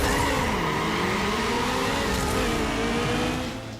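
Need for Speed Underground race cars roar and rev with sweeping engine tones and brief tire squeal, loud and continuous, then easing off at the end, with no voices.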